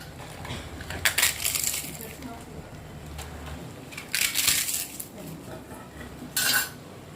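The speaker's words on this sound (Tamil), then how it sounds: "ஒரு 10 அப்பளம் பொரிச்சு வச்சுருக்கேன், அது உடச்சி போட்டுக்கலாம்." Fried appalam (papadum) is crushed by hand in three separate bursts of crisp, brittle crackling, each loud and close, with quieter kitchen background in the gaps.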